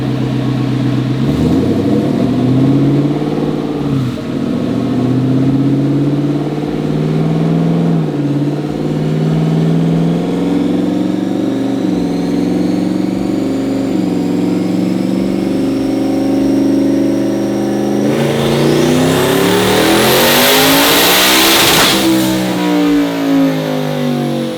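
A twin-turbo stock 5.0 engine in a Ford F150 pickup makes a dyno pull, droning loudly under load before climbing into a hard rev with a rising turbo whine near the end.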